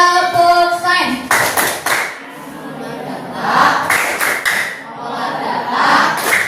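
A class of children performs a rhythmic clap chant for science, chanting voices alternating with loud, tight bursts of group clapping in a patterned rhythm, close and energetic.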